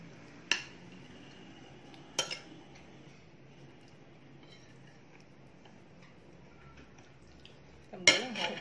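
A spoon clinking against dishes during a rice meal, three sharp, isolated metallic taps spaced seconds apart over a quiet room background.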